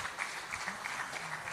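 An audience at a conference event applauds its guest speakers and panelists, a brief, steady patter of clapping from a crowd.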